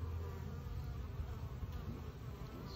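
Steady, dense buzzing of many honeybees at close range, a continuous low drone with no pauses, like a busy hive entrance.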